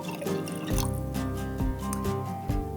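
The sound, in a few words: water poured into soy sauce and mirin liquid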